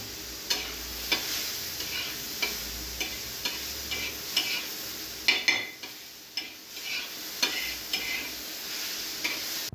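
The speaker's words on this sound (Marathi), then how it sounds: "तव्यामध्ये मी मिरची टाकलेली आहे पहिल्यांदाच आपण तेल टाकायचं नाही थोडंसं मिरची भाजत आली ना मग नंतर मी इथे तेल ॲड करते तव्यावरती" Green chillies roasting in oil on a tawa give a steady soft sizzle, broken by regular close scraping and tapping of a spatula against the pan, with no talking.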